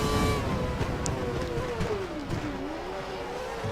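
A Formula One car in F1 2012 at the Belgian Grand Prix holds a steady high engine whine that dips and climbs again as it powers out of a corner. It sounds continuous, moderately loud and alone.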